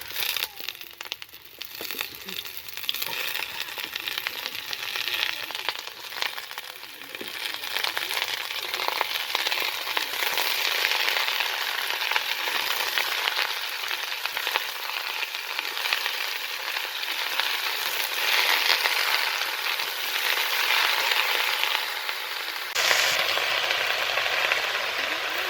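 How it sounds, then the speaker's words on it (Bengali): Spinach is stirred into fried vegetables in a pan, giving a loud, steady sizzle and crackle with rustling, crinkling stirs throughout and no speech. "ওর সঙ্গে শাকটা নেড়ে নেব।"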